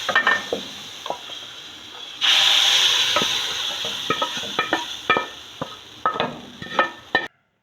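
Hot oil sizzles with a sudden loud hiss as spices hit the pan for tempering dal, followed by stirring clinks and scraping.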